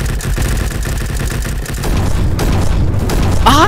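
Pistol fire in the Roblox shooter Bad Business rattles out as rapid, repeated close shots in a steady rhythm, loud and dense, with game noise swelling toward the end.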